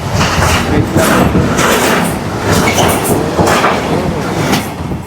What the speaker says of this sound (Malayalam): ട്രെയിൻ അപ്പുറത്തൂടെ പോയോണ്ടിരിക്കുമ്പോൾ പപ്സ് കഴിക്കാൻ ഭയങ്കര അടുത്തൊക്കെ കാറ്റാണ്